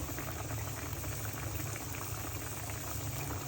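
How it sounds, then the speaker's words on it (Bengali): Aair river fish curry boiling in a pot, a steady close bubbling rumble that holds unbroken throughout. "তরকারি বলক উঠেছে আর বেশিক্ষণ লাগবে না কমপ্লিট হতে"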